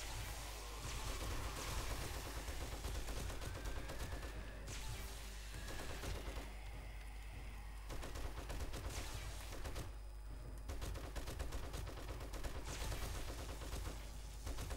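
Dense gunfire in the zombie survival game 7 Days to Die, rapid bursts and booms rolling almost nonstop with brief lulls, heard faintly at low volume.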